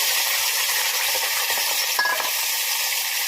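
Peas and potatoes fry in hot oil in a wok with a dried chilli and five-spice tempering, producing a continuous close sizzle with a brief clink of a utensil midway.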